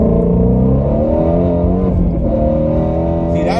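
Shelby GT500 accelerating hard with a loud, harmonic engine roar that rises, dips briefly at a gear change around the middle, then climbs again, heard close from inside the car.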